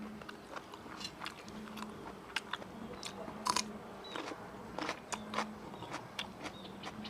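Boiled apple snails are chewed up close, giving repeated soft crunching bites in an irregular rhythm against a quiet background, with no talking.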